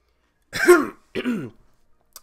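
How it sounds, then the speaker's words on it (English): Two short, rough coughs, close and fairly loud, separated by a brief pause, sounding like someone clearing their throat. "sorry, I keep coughing"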